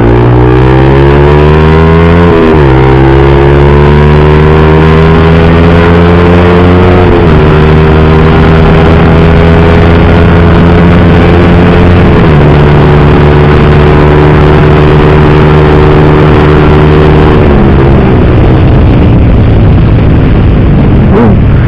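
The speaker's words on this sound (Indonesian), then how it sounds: "kalau kita buka dulu valve-nya, kita geber kayak gini suaranya" A motorcycle engine with an open exhaust, its valve open and DB killer fitted, revs loudly four times, each blip rising then settling back to a deep, rumbling idle.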